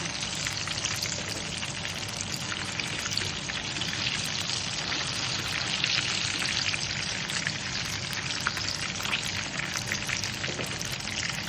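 Fish fries in hot oil in a pan, a dense, steady sizzle and crackle that carries on evenly throughout with no talking.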